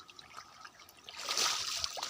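Water poured over a hot, smoking car engine to cool it down, heard as a close trickling and splashing that swells louder midway and keeps running for a couple of seconds.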